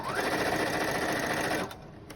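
A sewing machine stitching fabric for a simple book bag, a loud, steady whirring hum for about one and a half seconds that then stops abruptly, heard up close with no voice.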